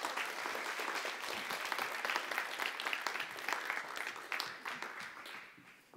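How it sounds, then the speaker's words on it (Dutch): A student audience applauds panelists at an Amsterdam election debate, the clapping broad and steady across the whole stretch, moderately distant and tapering slightly at the end. "Een heel hartelijk applaus alsjeblieft"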